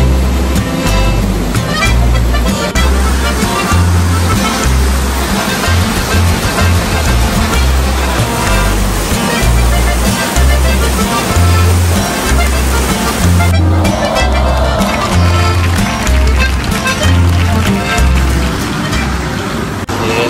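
Heavy rain pours down in a dense, loud, unbroken hiss that fills the scene, with a steady pulsing low beat running underneath throughout.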